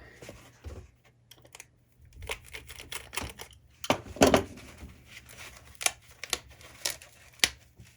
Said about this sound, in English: About 1 inch from the bottom and about 1 inch above that. And you'll just cut that out.